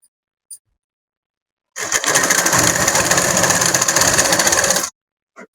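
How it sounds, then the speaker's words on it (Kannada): A sewing machine runs a short seam on a semi Patiala pant: after a quiet start with a faint click, a steady rapid stitching whir plays close for about three seconds, then stops, followed by a small tap. "ಇವಾಗ ಈ ಎಂಡಿಗೆ ಒಂದು ಹೊಲಿಗೆ ಹಾಕೊಳ್ಳೋಣ"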